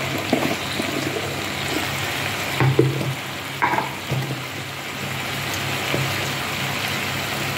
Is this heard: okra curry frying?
yes